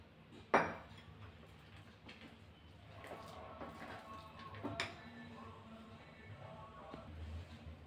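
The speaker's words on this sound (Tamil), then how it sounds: "தண்ணி சேர்த்து நம்ம மிக்ஸ் பண்ணிக்கலாம்." A spoon stirs gram flour idli batter with added water in a bowl, with soft scraping and occasional sharp clinks against the vessel, quiet and close.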